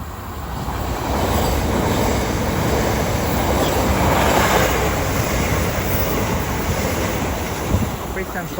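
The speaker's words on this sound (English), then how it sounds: "soon to come charging through now will be a southeastern service going from Dover Priory and Canterbury West to London Charing Cross" A Southeastern passenger train from Dover Priory and Canterbury West to London Charing Cross charges through Orpington station, a loud sustained roar of wheels and wind that swells and holds before easing slightly.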